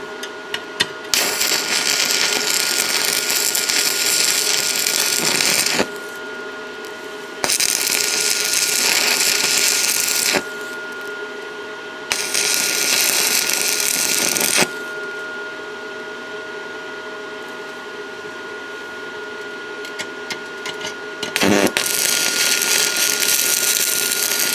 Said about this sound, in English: So let's get on and do a little bit more welding,